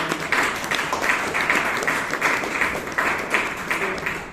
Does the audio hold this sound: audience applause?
yes